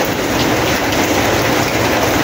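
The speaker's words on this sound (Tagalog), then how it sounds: "Umulan na umulan." Heavy rain falling in a dense, steady, loud hiss with no pauses.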